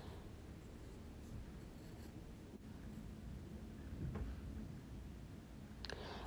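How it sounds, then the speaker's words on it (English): Pencil scratches across watercolor paper while sketching a landscape, a continuous soft rasping of marks close to the microphone with a few brief louder strokes, no talking. "I'm sketching these pencil marks in fairly dark so that you can see them"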